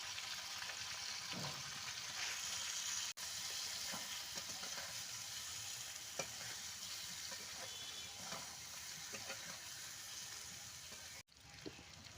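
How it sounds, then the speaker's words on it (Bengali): Potatoes with salt and turmeric fry in hot oil in a wok, giving a steady, close sizzle and crackle that runs throughout with no talking and only two brief dropouts. "আলুগুলো আমার ভাজা হয়ে গেছে"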